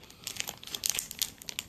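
A crinkly plastic snack wrapper on a Piccadilly combo cake is torn and crumpled open up close, with a rapid, irregular stream of crackles and rustles and no talking.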